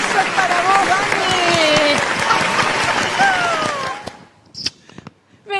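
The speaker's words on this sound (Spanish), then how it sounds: "Y este aplauso es para vos, Vane." Studio audience applause and cheering for a guest being introduced on a Saturday variety show, a dense sustained roar with voices over it, fading out after about four seconds into scattered claps.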